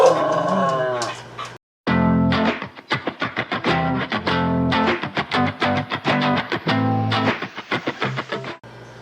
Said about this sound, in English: every time I do, Gracie barks, and I have to start all over again